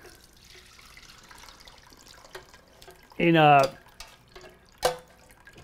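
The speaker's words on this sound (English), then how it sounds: "pour this right through the strainer" Roast duck drippings are poured through a strainer in a kitchen: a short, sudden splashing burst of liquid against faint background noise, followed by a brief clink.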